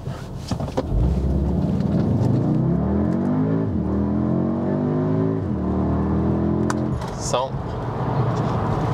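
A 300 hp Audi SQ2 accelerates hard from a standstill on damp ground, engine climbing through several gears, rising pitch sweeps with brief drops at each shift, loud and close.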